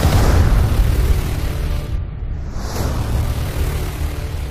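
Film battle scene with a continuous loud rumbling roar of explosions and heavy booms, sustained throughout with a brief dip midway, no speech.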